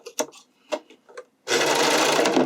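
A regular sewing machine stitching elastic onto a bikini top runs in a loud, steady whir for about a second, following a few soft clicks and handling noises.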